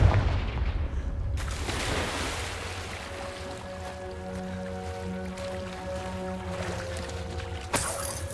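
A Confringo blasting spell goes off in Hogwarts Legacy, a loud, broad burst at the start, then rumbling debris with steady tones in the game's background, and a second sharp crack near the end.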